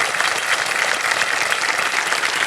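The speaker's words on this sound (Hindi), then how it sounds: "तालियां बजती रहे इनके लिए" Sustained studio audience applause on a television quiz show set, loud and dense throughout with steady clapping from a crowd and no talking over it.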